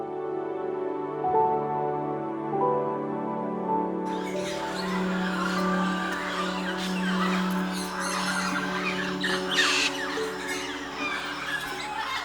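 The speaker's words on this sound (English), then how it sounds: "including blue-headed parrots, chestnut-fronted macaws, mealy parrots, and red and green macaws" Parrots and macaws, including blue-headed and mealy parrots and chestnut-fronted and red-and-green macaws, calling in the Peruvian Amazon rainforest, with harsh squawks and screeches over a sustained tonal drone, fairly close and continuous.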